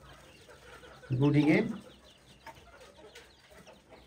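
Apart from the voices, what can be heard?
chickens clucking at a breeding farm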